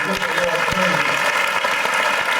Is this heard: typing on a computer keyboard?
no